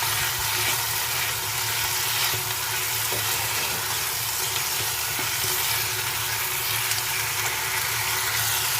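Chicken liver (kaleji) fries in oil in a fry pan with added coriander, giving a continuous loud, even sizzle with occasional faint stirring scrapes and no voices.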